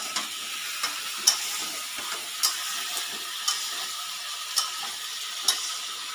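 Bori lentil dumplings fry in a pan with a soft, continuous hiss, broken by faint sharp pops and spits every second or so.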